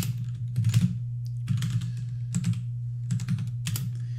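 Bursts of quick key clacks from a computer keyboard being typed on, in several short runs separated by pauses, fairly close, over a steady low electrical hum with no talking.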